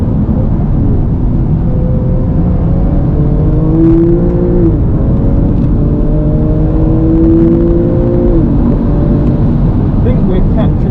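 A Porsche 997 Carrera GTS accelerates on a race track, its loud engine droning steadily and rising in pitch through repeated surges while someone talks over it.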